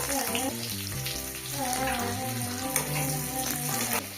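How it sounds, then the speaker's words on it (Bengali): Onions fry in a pan for a Bengali fish curry, giving a continuous close sizzle with steady tonal sounds running underneath. "এখনো বাকি রয়েছে মাছের ঝালের জন্য পেঁয়াজ তুলে দিল"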